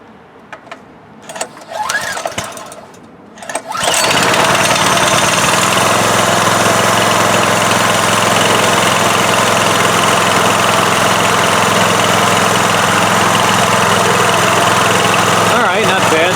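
A Coleman CT200U-EX mini bike engine starts after some quiet handling, then runs at a steady, loud idle that continues without a break to the end.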